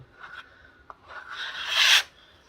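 A steel trowel scrapes and smooths plaster over tile skirting in repeated short strokes, building to a louder, closer rasping sweep before stopping abruptly; no talking.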